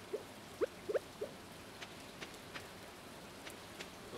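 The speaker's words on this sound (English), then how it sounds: "Alright, so it's raining." Rain falls in the video game Stardew Valley as a soft, steady patter, with a few brighter drops and light ticks scattered across the quiet background.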